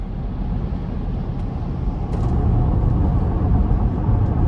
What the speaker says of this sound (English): Tire noise, not terrible.